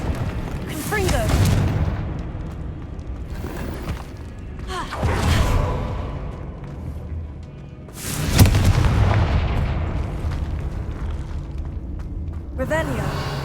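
In Hogwarts Legacy, Confringo fire spells go off as a run of loud booming blasts with rumbling tails, spaced several seconds apart, while a voice talks over parts of it.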